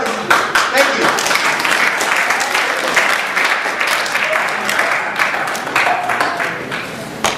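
An audience claps steadily and densely throughout, the dense, continuous clapping mixing with a voice speaking over it.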